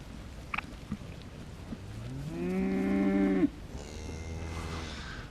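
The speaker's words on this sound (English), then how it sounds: "Hank's a beautiful Pole Dawson sheep" A Poll Dorset sheep gives one drawn-out, loud bleating call lasting over a second, followed by a fainter second call, set against quiet outdoor background noise.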